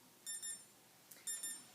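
Electronic beeping from an SpO2 pulse oximeter alarm during a patient reading: two pairs of short, high-pitched tonal beeps, clear and fairly close, with no talking.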